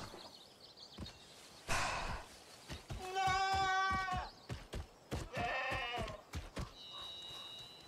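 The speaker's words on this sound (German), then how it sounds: "Das hat sich gerade so angehört, als hätte das Schaf Nein gesagt." Several bleats from a video game sheep, quavering drawn-out calls separated by short clicks and thuds, fairly close and clear with no talk over them.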